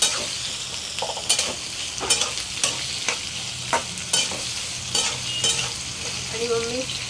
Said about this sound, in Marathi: तेलामध्ये मी बाजरी टाकली म्हणजे चांगली ती फुलून पण निघेल आणि कांदा भाजेपर्यंत बाजरी पण चांगली आपली भाजेल